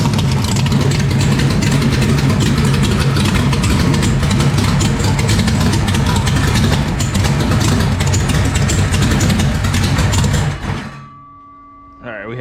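A car engine runs steadily and loudly on a dyno for about ten seconds, then cuts off abruptly, leaving near silence before a faint restart noise.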